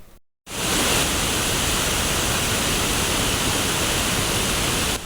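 Waterfall behind the Balaji temple, a dense, steady rushing roar of falling water that begins abruptly after a brief gap and continues loud and unbroken.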